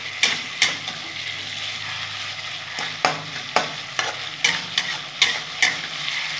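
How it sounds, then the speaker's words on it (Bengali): A spoon stirs and scrapes through food frying in a pan after sugar is added, with repeated sharp scraping strokes over a steady close sizzle and no talking. "আবার একটু নাড়িয়ে দেবো"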